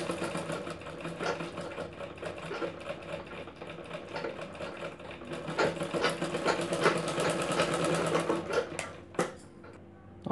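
A sewing machine stitching the lining of a princess-cut cup blouse, running in a steady whirring drone with slight speed changes and a few sharp clicks near the end as it stops, close and unaccompanied by voices.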